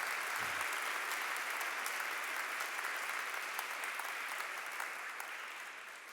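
Steady, dense applause from a large lecture audience, a continuous wash of many hands clapping that tapers slightly toward the end, with no talking.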